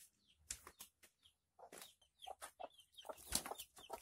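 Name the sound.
chickens clucking while eating maggots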